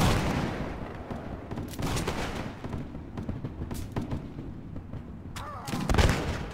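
Musket volley fire in Mount & Blade Warband, a ragged crackle of many shots rolling together into booming bursts, with more firing swelling near the end, loud and up close.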